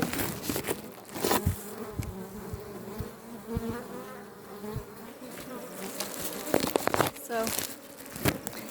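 Honeybees hum in a continuous buzzing swarm close by around a hive in Congo, mixed with crinkling and tapping handling noises, while a person speaks briefly.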